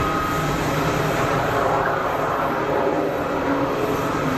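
A Pilatus PC-12 turboprop at Geneva Airport gives a steady, loud engine roar with a broad rushing drone that holds evenly throughout, no voices over it.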